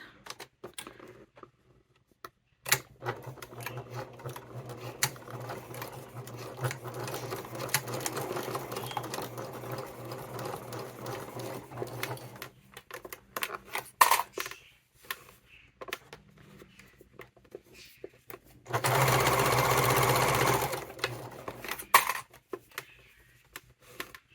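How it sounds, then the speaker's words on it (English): A sewing machine stitching a fabric wallet, running in bursts of rapid mechanical chatter separated by pauses, with one loud sustained run near the end and small handling clicks between. "So I'm just going to start at one end and start sewing."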